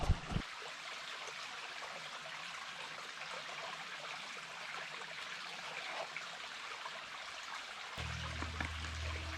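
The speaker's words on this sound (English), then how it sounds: "I'm using this Sawyer water filtration system in a squeeze bag to just replenish my water." Filtered water dribbling steadily from a Sawyer squeeze bag filter while refilling on a backpacking trip in Kentucky's Red River Gorge, a continuous close trickle with a brief low rustle near the end.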